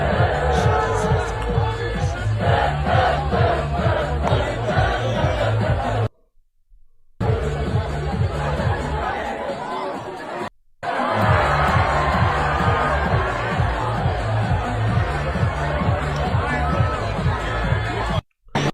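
A London crowd at a dance music event cheers and whoops over a pounding, pulsing beat, loud and continuous, broken by a couple of brief dropouts.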